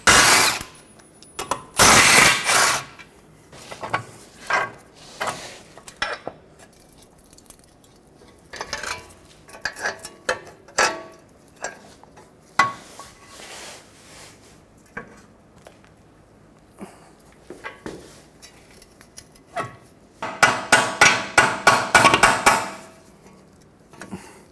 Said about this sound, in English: Now that our ball joint is free, we're going to remove the nuts and bolt.